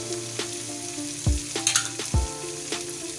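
Spices such as red chilli powder, coriander powder and salt frying in oil in a pan for kadhi pakora, a steady close sizzle with a few sharp clinks of a spoon against the pan.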